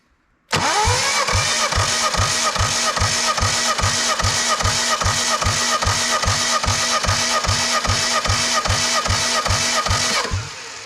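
A Jeep Willys engine cranks over steadily for about ten seconds, the starter's rhythmic chug loud and even without firing, then cuts off.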